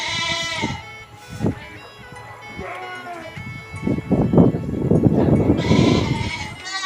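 Goats bleating on a farm where animals are being handled for blood sampling, several close bleats and cries spread through the clip with people talking over and between them.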